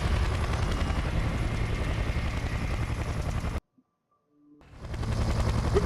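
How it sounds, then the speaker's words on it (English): A helicopter in Splinter Cell: Conviction gives a close, loud rotor thump with dense chopping rhythm, cuts abruptly to near silence for about a second, then swells back in. "I'm taking fire from that chopper."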